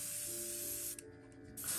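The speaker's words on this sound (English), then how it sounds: "And then I'll spray this off to the side here to get some of the red ink out of there" A steady airbrush hiss sprays red ink and water continuously, briefly cutting out near the middle before resuming, fairly close and with no talking.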